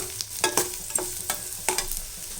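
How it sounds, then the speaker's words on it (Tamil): Cinnamon, cloves, fennel, ginger, garlic and onion sautéing in a pan make a soft background sizzle. Several crisp spatula scrapes and knocks land at an uneven pace close by. "பட்டை லவங்கம் சோம்பு இஞ்சி பூண்டு வெங்காயம் போட்டு இருக்கோம் இதை நல்லா வதங்கிடுச்சு"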